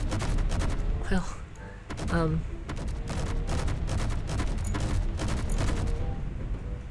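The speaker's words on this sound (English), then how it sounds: "can I shoot something? How do I? Auto cannon?" Mech auto cannon firing in the Space Engineers video game, a loud continuous volley of rapid booming shots, with someone briefly talking over the gunfire.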